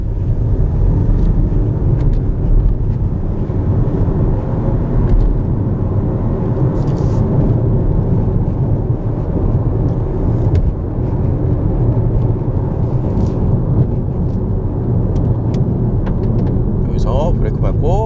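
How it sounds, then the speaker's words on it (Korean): A BMW 118d Joy, front-wheel drive, set in sport mode, drives along with a steady low engine and road rumble heard from inside the cabin. Someone talks over it. "이 변속기만 이렇게 좌측으로 밀어서 한번 주행을 해보도록 하겠습니다"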